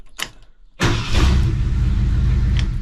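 A 1972 Ford F-100 Sport Custom pickup's engine cranks and catches with a sudden loud burst, then settles into a steady, close, rumbling run. A brief click comes just before it starts.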